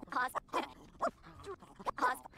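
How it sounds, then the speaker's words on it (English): Whimpering, yipping dog sounds from a video game dog in a Rags to Riches challenge, several short bursts in a row at moderate level, with no clear talk over them. "we're playing with the dog"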